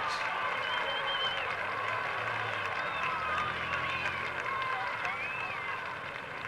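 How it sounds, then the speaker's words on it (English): Stadium crowd at an Evel Knievel motorcycle jump over 15 cars, a dense sustained roar of cheering and whistles, loud and continuous throughout, with a voice talking over it. "A beautiful leap as Evel Knievel gets the roar of approval from the crowd here, going beautifully over 15 cars."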